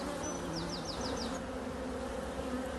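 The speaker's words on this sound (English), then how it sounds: "You can see the occasional bee that's coming in with pollen stuck to the legs." Honey bees buzzing at a beehive on a farm, a dense continuous hum of many insects close by, with a brief higher chirping pattern near the start and no talk.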